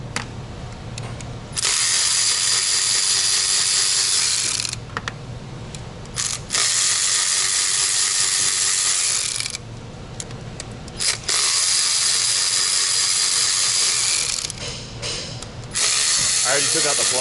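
Cordless drill fitted with a T30 Torx bit backing bolts out of a VW engine, whirring loud and close in three long bursts with short pauses between them.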